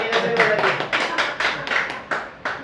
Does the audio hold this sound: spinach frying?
no